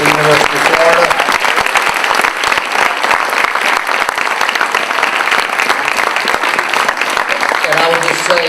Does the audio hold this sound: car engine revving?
no